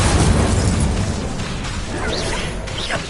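The Incendio fire spell goes off in the Hogwarts Legacy game on PS4 as a dense, loud, continuous burst of roaring, crackling magical combat effects, with whooshing tones over the top.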